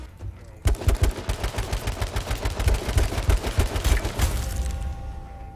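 Gunfire in the battle royale game H1Z1, a sudden loud burst of rapid automatic shots that keeps going for several seconds before easing off, heard close with no clear talking.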